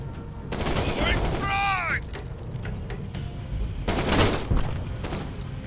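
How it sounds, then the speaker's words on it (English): A frag grenade thrown and exploding in the tactical shooter Door Kickers 2, heard amid dense gunfire: rapid cracking shots and a booming burst near the middle, then another loud blast-like surge toward the end. "Throwing frag."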